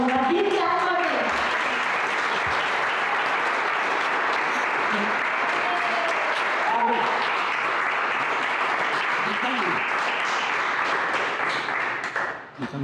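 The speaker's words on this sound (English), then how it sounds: "Please clap for it" A crowd at a new abacus centre inauguration claps together in sustained, even applause that holds steady at moderate volume, with a few voices audible at the start and the clapping tapering off at the very end.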